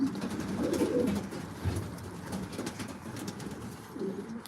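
Racing pigeons coo repeatedly in a loft, soft low throaty calls overlapping one another, close and steady throughout with no talking.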